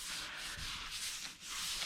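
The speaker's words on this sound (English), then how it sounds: "we take a wet sponge. This is just a grout sponge. And we blend those 2 edges." A wet grout sponge rubs over fresh drywall compound to blend smooth and textured edges, giving close, soft swishing strokes in a steady back-and-forth rhythm, alone and quiet.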